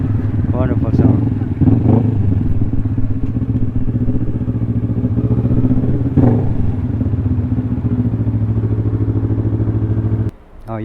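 A Kawasaki Ninja 400 motorcycle fitted with an SC Project exhaust, its engine droning loud and close for about ten seconds before cutting off abruptly near the end.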